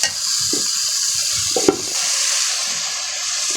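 Cauliflower and potato stir-frying in a pan, a constant hiss of hot oil with occasional clicks and knocks of a spatula against the pan.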